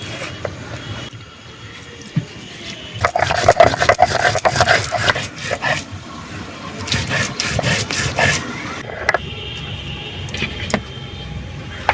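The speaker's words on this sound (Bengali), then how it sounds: "শুকনো খোলায় ভেজে রাখা গরম মশলাগুলো এবার আমি জল দিয়ে বাটবো" Dry-roasted garam masala being ground with water, producing rough, rasping rubbing strokes that repeat unevenly and swell louder midway, close and alone without talk.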